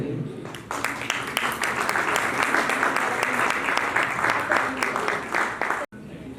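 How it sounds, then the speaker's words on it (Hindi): Loud, sustained audience applause at an awards ceremony with poetry and music, dense clapping filling nearly the whole stretch before cutting off abruptly near the end. "जोरदार ताली बजाइए।"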